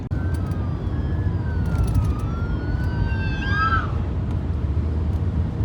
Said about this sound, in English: Oops, we got an ambulance coming.